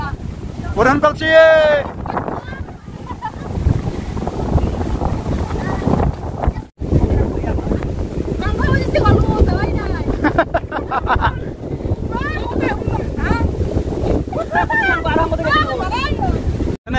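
Strong wind buffets the microphone with a constant roar during a wind and rain storm in a field in Assam, while people talk over it.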